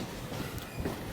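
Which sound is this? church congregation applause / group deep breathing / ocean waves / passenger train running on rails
passenger train running on rails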